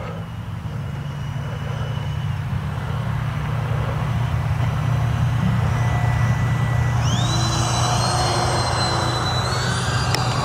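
A radio-controlled twin 70mm electric ducted-fan A-10 Thunderbolt V2 jet makes a landing attempt, a steady loud turbine whine holding throughout with rising pitch sweeps as throttle changes in the second half.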